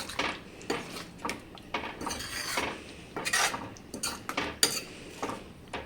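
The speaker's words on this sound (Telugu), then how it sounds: "ఇలా జస్ట్ తేలికగా కలుపుకోవాలి." A vegetable curry is gently stirred in a pan, giving repeated soft metallic scrapes and clinks of a spoon against the pan in an uneven rhythm, close and moderately quiet with no talking.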